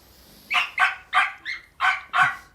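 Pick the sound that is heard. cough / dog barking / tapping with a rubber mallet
dog barking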